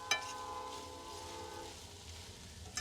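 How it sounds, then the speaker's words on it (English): A train passes at a distance near a roadside van camp, its horn sounding first and then holding steady before fading as the rumble carries on. "Ooh, I love trains."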